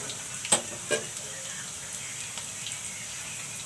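Radish greens hitting hot oil in a pan with fried garlic, onion and chili, giving a steady faint sizzle with a couple of brief louder crackles near the start.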